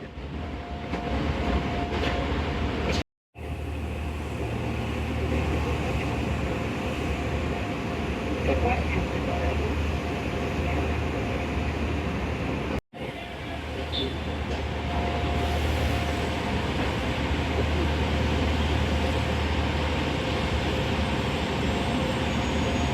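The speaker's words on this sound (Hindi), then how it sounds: "GEU 40 की पावर के साथ खड़ी हुई है ग्रीन लाइन एक्सप्रेस" Green Line Express standing at platform 1 of Khanewal Junction behind a GEU 40 diesel locomotive, its engine rumbling loud and steady throughout with low voices in the background and two brief dropouts.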